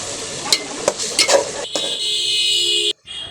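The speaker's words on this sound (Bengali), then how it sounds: "এবারে মাছগুলো কষানোর জন্য মশলার ভিতরে ছড়িয়ে দিচ্ছি।" Poa fish being sautéed in spice mix in a pan, a few clattering stirs followed by a steady bright sizzle that cuts off near the end.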